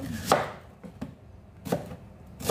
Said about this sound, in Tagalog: Slice natin ang onion.